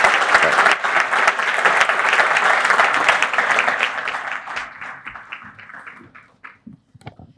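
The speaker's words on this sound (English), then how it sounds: "can we give Demi one more massive round of applause" A crowd at a finance event gives a hearty round of applause, dense clapping that gradually thins out and fades to a few scattered claps at the end.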